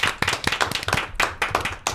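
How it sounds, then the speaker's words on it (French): A talk show studio audience claps in short, uneven bursts, with sharp hand strikes spread across the room, close and lively, without talk over it. "on peut s'applaudir si vous êtes d'accord"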